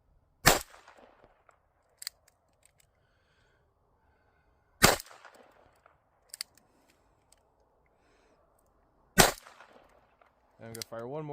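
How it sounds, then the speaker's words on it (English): A handgun fires at a farm, three loud, sharp reports spaced roughly four seconds apart, each with a short echoing tail across open ground, plus a few fainter clicks between them. A voice speaks briefly at the end. "I'm gonna fire one more just to make sure they're all empty."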